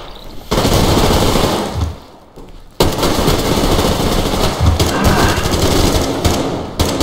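Rapid automatic gunfire in the video game Survarium, loud and close, rattling in long sustained bursts with a brief pause partway through.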